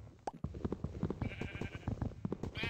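Several close Minecraft sheep bleats in quick succession, quavering and pulsed, loud and steady across the short stretch.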